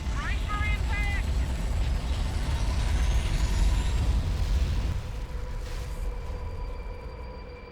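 An escape pod crash-lands in Halo: Combat Evolved, a loud sustained roar of rumbling impact and grinding metal that slowly tapers off, with brief electronic chirps near the start and a thin ringing tone at the end.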